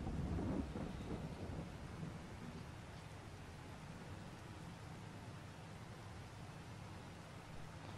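Thunderstorm in the Farming Simulator 22 video game, a low rolling thunder rumble that fades into steady hissing rain, continuous and fairly quiet with no voices.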